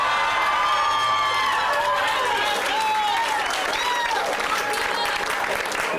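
A large crowd applauds and cheers at an election-night victory rally for a U.S. Senate re-election: dense, continuous clapping mixed with whistles and shouts, loud and sustained throughout.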